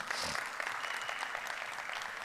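Brief, fairly faint burst of audience applause lasting about two seconds, a steady wash of clapping with no distinct voices.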